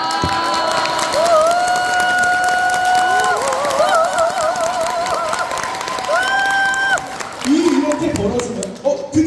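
A lecture audience bursts into applause and cheering, with a crowd of hands clapping and shouting voices under a speaker's continuing voice.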